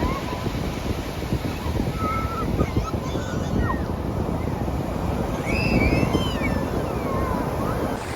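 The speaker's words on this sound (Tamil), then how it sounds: "வந்துச்சு, அலை வந்துச்சு." Ocean waves wash in on Neelankarai beach in Chennai. Surf rumbles steadily and broadly with heavy wind buffeting the microphone, and a faint voice or two sounds under the roar.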